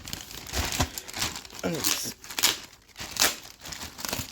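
Plastic packaging on a mystery pack of Pokémon cards bought second-hand is opened, with sticker tearing and steady crinkling and crumpling close by while a person speaks.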